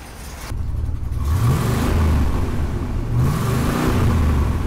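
A Pontiac GTO engine idles with a steady low rumble, then revs up twice in rising sweeps before settling back, loud and close with no talking.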